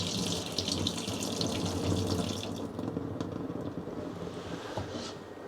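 Rinse water gushes out of a jar of sprouting broccoli seeds into a sink, a continuous close splashing pour that slowly thins toward the end.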